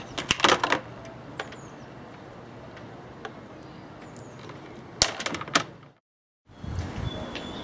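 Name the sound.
cutting solar panel wires to length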